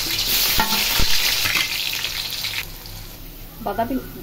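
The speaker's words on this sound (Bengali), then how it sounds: "তেলটা গরম হয়ে গেছে, পেঁয়াজটা দিয়ে দিই।" Chopped onion hits hot oil in a pan and fries with a loud, bright sizzle, while a few sharp stirring knocks break through close by, then the hiss settles lower and a brief voice cuts in near the end.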